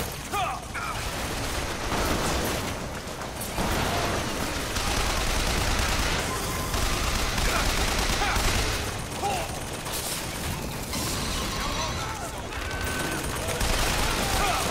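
Turret gunfire in the video game BioShock Infinite: sustained rapid bursts of automatic shots with mechanical clatter, loud and dense throughout, layered over other game noise.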